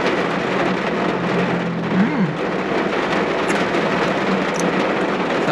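Heavy rain falling outside an apartment during a downpour, a steady, dense broadband roar that holds evenly throughout with no voices.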